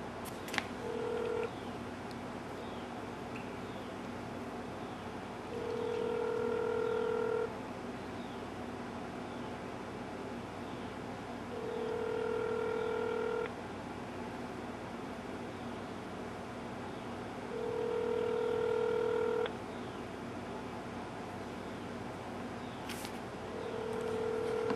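Telephone keypad tones sound during a phone call, short steady beeps recurring in several spaced bursts over a faint background hiss.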